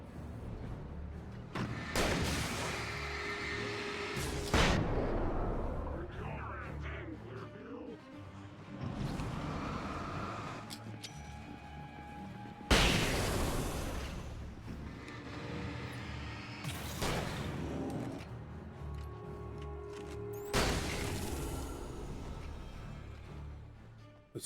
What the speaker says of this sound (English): Those flashbangs are so fun.